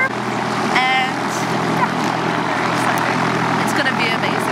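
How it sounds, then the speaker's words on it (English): Helicopter cabin in Iceland, a loud, steady rotor and engine drone filling the whole stretch close around, with people talking over it. "We're getting in the helicopter"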